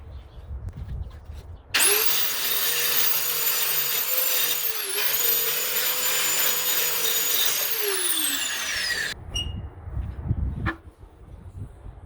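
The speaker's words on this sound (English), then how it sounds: "I'm going to see if I can grind that down." An angle grinder grinding leftover weld material off a welded hinge on a metal frame, a loud steady whine that starts abruptly, dips briefly in pitch, then winds down and stops, followed by faint clatter.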